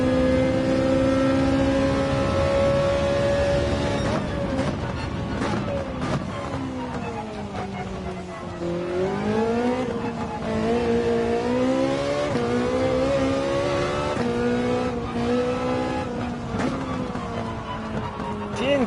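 A Ferrari in Gran Turismo 7 revs hard on a track, its engine note climbing and dipping steadily through gear changes for the whole stretch, loud and continuous with faint tire noise.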